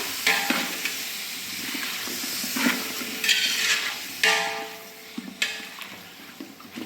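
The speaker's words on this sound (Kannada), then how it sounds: "ಚೆನ್ನಾಗಿ ಫ್ರೈ ಮಾಡೋಣ" Chicken biryani masala with ginger-garlic paste frying in a pan, a steady close sizzle with repeated scraping stirs of a spoon across the metal, no talk.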